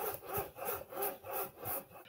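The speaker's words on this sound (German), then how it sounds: "Aber man hört ein Schleifgeräusch ganz deutlich, wenn man das Lenkrad dreht." Grinding gears inside a Logitech racing wheel (G923 or G29) as it is turned by hand while unplugged, a rhythmic scraping rasp repeating about every third of a second, close and fairly quiet, no voices.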